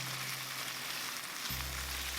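Chicken skin pan-frying until golden for fish sauce roasted chicken, giving a steady, soft, close-up sizzle with faint hissing spatter and a low hum that shifts midway, with no talking.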